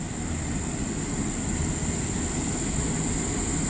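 CSX freight train 262 rolls past with a constant heavy rumble and a steady high whine, loud and close, with no voices.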